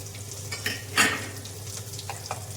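Potatoes frying in oil in a pan give a steady, close sizzle. Soft scraping strokes from a stirring utensil run over the top, and one louder clatter comes near the middle.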